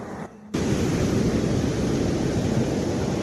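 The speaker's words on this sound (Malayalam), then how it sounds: "തിരയുടെ ശബ്ദം അതിഭീകരം." Ocean waves at Alappuzha beach in the evening, a loud, constant roaring surf that swells in suddenly after a brief dip and stays dense and unbroken, with no voices.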